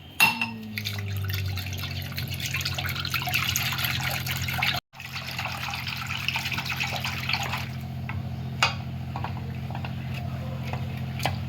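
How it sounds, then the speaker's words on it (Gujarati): A glass of water poured into curd and gram flour for Kathiyawadi kadhi, a soft liquid trickle and splash that runs for several seconds, briefly breaks off, then continues quietly with small drips. "એની અંદર હવે 1 ગ્લાસ પાણી ઉમેરો"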